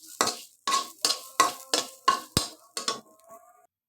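Black cumin (kalijira) seeds being dry-fried and stirred in a pan, heard as about eight separate scraping strokes in a steady rhythm, each a short bright rasp, with one sharp knock partway through and no talking.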